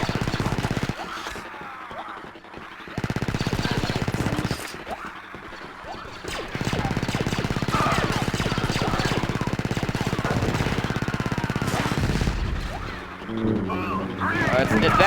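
Rapid chain gun fire in Battlefront 2 from a clone commander of the Galactic Marines, heard as long sustained bursts broken by short pauses, with dense clattering impacts throughout.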